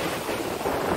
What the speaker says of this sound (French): il y a du vent. Il y a le bruit des vagues aussi.